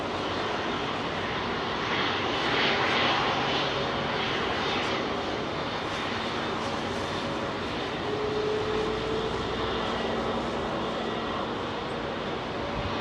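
Long-range Lufthansa jet airliner engines roar on runway 27R at London Heathrow, a loud, broad, sustained rumble heard up close that swells slightly and holds steady throughout with no talk.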